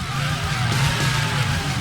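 A Bigfoot monster truck spinning donuts in Rigs of Rods gives a loud, continuous engine roar with a steady drone and slight wavering pitch, close and unbroken.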